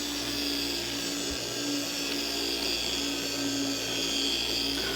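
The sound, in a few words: car polisher polishing paint with ShineMaster compound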